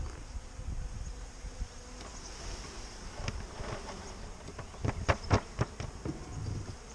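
Honeybees from a 3 lb package, about 10,000 of them, being shaken into an old hive box, hum in a steady low buzz close by, with scattered thumps and knocks from the box and handling toward the end.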